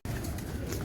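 A domestic pigeon with crimson eyes coos close by, soft repeated calls over a steady background hiss, with no voices.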